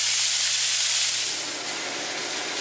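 Beef sears in a hot pan with a loud, steady broadband sizzle and hiss that eases slightly partway through and then holds constant.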